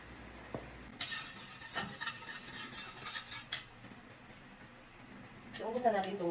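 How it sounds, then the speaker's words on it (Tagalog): Meat sautéing with garlic in a kawali, a metal spatula scraping and clinking against the pan in repeated strokes, with the stirring growing busier toward the end. "dito sa kawali na to, dito natin igisa ang ating karne"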